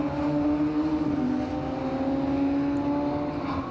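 Radical race cars sprint down the Bentley straight at Snetterton, a steady, loud engine drone with sustained high-revving tones holding throughout, no voices over it.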